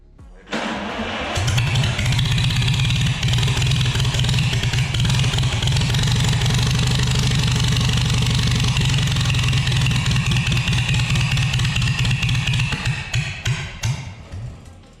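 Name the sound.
1949 Farmall H tractor engine running and idling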